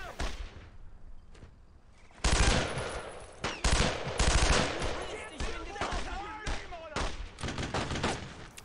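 Machine gun fire in Brothers in Arms World War II combat, sustained overlapping automatic bursts and scattered shots at mid distance, loud and continuous after a quieter start, with faint voices mixed in.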